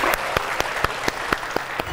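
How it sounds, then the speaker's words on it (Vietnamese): Applause for a couple at a televised matchmaking show, with sharp, evenly spaced claps ringing out over a steady bed of audience clapping, close and fairly loud, with no talking. "Một tràng pháo tay cho cặp đôi ngày hôm nay."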